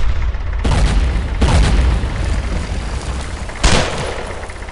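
Heavy booming explosions and gunfire from the World War II shooter Brothers in Arms: Road to Hill 30, several deep blasts over a constant rumbling battle din.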